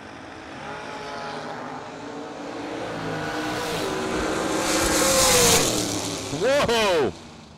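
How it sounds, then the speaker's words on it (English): A dragster roars down the strip at Darana Dragway during a drag racing event, its engine noise swelling steadily before a loud, sharp pitch-sweeping pass near the end, with voices in the background. "Dragster on the right side."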